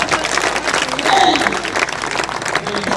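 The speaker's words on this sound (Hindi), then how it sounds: "जरा सीवान वाली तालियां मुझे मिलनी चाहिए।" An audience at a mushaira in Siwan breaks into loud, sustained applause, a dense wash of clapping that swells and continues for a few seconds.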